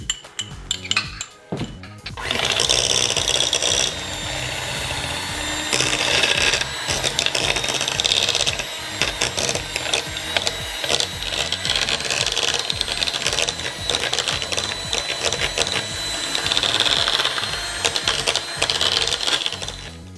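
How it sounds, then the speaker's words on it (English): Electric hand mixer beating cream cheese with butter and lemon zest for keto mini cheesecake bites, a steady close whirring with rattling beaters against the bowl running throughout after a brief quiet start. "she's going to beat cream cheese with butter and also with the lemon zest."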